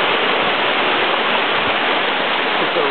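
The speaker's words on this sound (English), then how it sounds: "but a really beautiful waterfall" Loud, steady rush of a waterfall in the Adirondacks on a rainy day, a dense continuous roar of falling water filling the whole clip with no voices.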